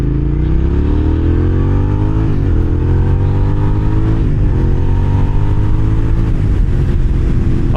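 A 2006 Suzuki SV650S motorcycle accelerating on a road, its engine note loud and close, rising in pitch through a gear change and climbing again steadily.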